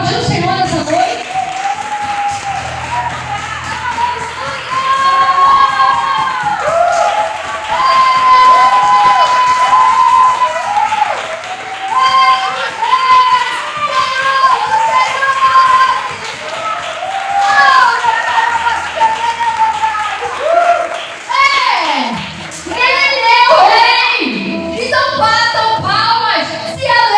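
A church congregation claps and cheers during a lively evening worship service, with crowd noise, applause and shouting sustained throughout under singing and amplified voices.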